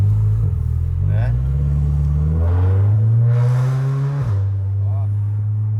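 A Volkswagen Golf GTI MK7 engine that had previously suffered rod knock revs up close and loud, its deep rumbling pitch climbing and falling in several pulls.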